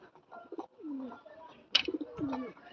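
Pigeons coo in low, rolling, descending notes while a hawk chases them, a couple of distinct calls with a brief sharp flutter between them, fairly close by.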